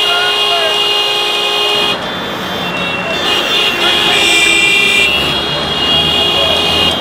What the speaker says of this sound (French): Ce sont des klaxons de façon continue produites par les chauffeurs de transport en commun dans la ville-province de Kinshasa.